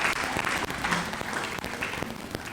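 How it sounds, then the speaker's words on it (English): Audience applause at a mental health awareness conference, a steady wash of clapping from a crowd filling the whole stretch at moderate level, with a few louder individual claps standing out. "A round of applause again, please."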